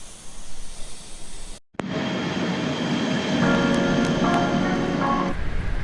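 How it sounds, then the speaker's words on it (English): Interior of a moving passenger train in Austria, with a steady rumbling hum and hiss of the carriage that continues without a break. Brief tonal whines come and go as the ride runs on. "All right, so we made it in the train."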